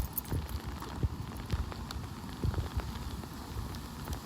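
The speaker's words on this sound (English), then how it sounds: "It's raining." Rain falls steadily outdoors in Florida, a soft close patter of drops hitting the ground with occasional sharper taps, heard alone without speech.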